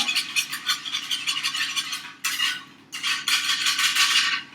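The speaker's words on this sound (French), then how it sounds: "une demi-tasse de beurre qui va fondre dans la sauce. On va mélanger tout ça." Butter melting into a sauce in a pot while a spoon stirs it, giving rhythmic scraping and clinking strokes with a brief pause before stirring resumes, close and clear.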